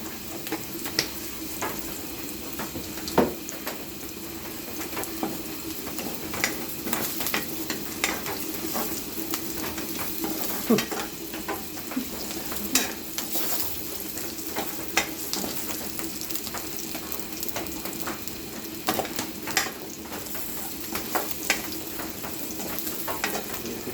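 Black cumin seeds fry steadily in hot oil, a dense, even sizzle with crackles and spatula scrapes running the whole time, close and without talk.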